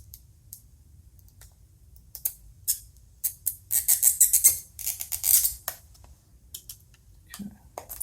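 Plastic CGC graded comic case being cut open with scattered crisp clicks and snaps, building to a dense crackling burst of cutting in the middle before trailing off into sparse ticks; close and fairly quiet, no talk.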